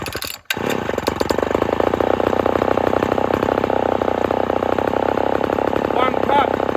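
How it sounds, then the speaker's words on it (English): Homelite XL12 chainsaw running: a brief gap, then the old engine roars back and idles loud and steady right up close, its rough rapid firing continuing unbroken for several seconds. "Kill switch is not on the saw. I've misplaced it. So I've got to choke it to kill it."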